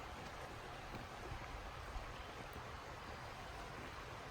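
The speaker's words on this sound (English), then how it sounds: "you can hear the water running" Water runs steadily along a stream beside a woodland hiking trail, a constant soft broadband rush with no pauses or voices.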